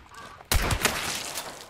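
A single sudden gunshot-like blast cuts in abruptly, followed by a sustained noisy rumble that lingers without fading away, in Hunt: Showdown.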